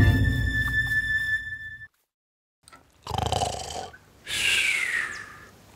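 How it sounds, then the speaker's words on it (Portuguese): Cartoon wolf snoring on the grass in a children's animated retelling of The Wolf and the Seven Little Goats. After a stretch of music and a brief silence, two rough, drawn-out snore bursts sound up close and fairly loud. "E ela encontrou o lobo roncando na grama."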